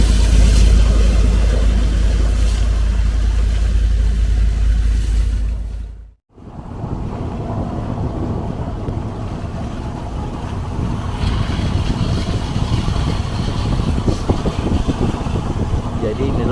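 A riverboat engine droning steadily on the Mahakam river in Borneo, loud and continuous with heavy rumble and wind buffeting, broken by one brief dip before the engine noise resumes.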